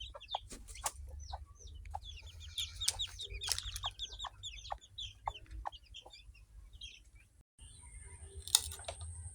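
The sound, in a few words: pet hen and chicks clucking while moved to their cage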